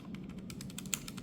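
Fingers type on a NocFree Lite keyboard fitted with Kailh Hush Deep Sea Pro linear switches, giving soft, muted, rapid keystrokes in an even close patter with no talk.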